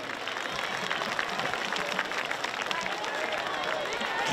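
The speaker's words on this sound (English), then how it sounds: "Nice round of applause for the Sinking Out War Eagle." Applause and crowd noise fill the stands at a high school football game in a steady broadband wash, with an announcer's voice over it.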